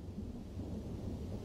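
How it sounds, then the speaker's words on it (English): Deep thunder rumbles low and steady from a brewing storm in the Chernobyl exclusion zone, soft and distant with a faint wash of rain, and no voices. "Outside, a storm is brewing."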